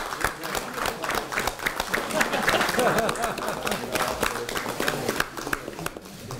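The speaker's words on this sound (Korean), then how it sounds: "박수 부탁드리겠습니다" Crowd applause at a political party meeting greeting regional gubernatorial candidates, a sustained dense patter of clapping at moderate loudness with people talking underneath and through it.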